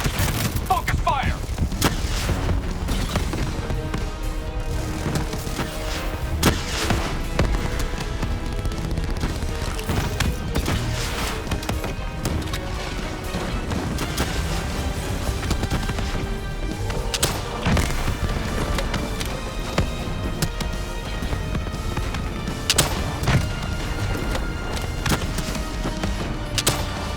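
Battle noise from Call of Duty: Black Ops 3 fills the scene, with sustained gunfire and booming impacts layered under a dense, constant din of effects and music that never lets up.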